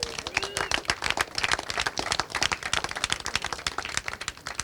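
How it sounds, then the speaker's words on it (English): Applause from spectators greeting the winner of the Honda Cadet final at the British Kart Championships at Larkhall, a steady patter of many hands clapping throughout, moderately loud with faint tonal sounds in the background. "Huge round of applause, please, for Synergy Racing's 45,"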